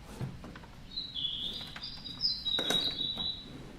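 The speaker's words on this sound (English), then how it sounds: "I'm gonna turn these birds down too." Loud birds chirping close by, with repeated high tweeting calls in bursts over a low background hum, no talking.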